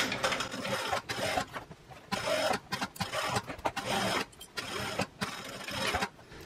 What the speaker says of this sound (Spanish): Alinean bien y vamos a empezar a coser.